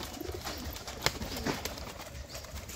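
Pigeons kept by a Bengali pigeon seller, with soft low cooing pulses and faint bird calls over a steady outdoor background, plus one brief sharp click midway.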